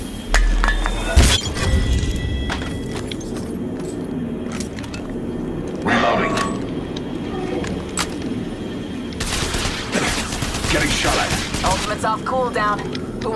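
Gunfire in a shooter video game, bursts of sharp close shots and rattling volleys scattered across the stretch, mixed with game effects and a voice speaking throughout.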